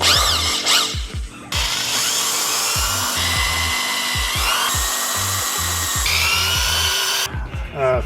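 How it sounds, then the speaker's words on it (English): A power drill whines steadily for several seconds, close and loud, with brief pauses and pitch changes as it bites into metal, drilling a rear trailing arm bushing on a Honda Civic or Acura Integra. "We'll try to go ahead and drill it."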